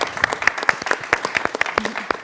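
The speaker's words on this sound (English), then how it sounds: "Let's give them another round of applause." A conference audience claps for the panelists at the close of a hybrid arts festival session, giving a short, sparse round of distinct claps that suggests a small crowd, without speech.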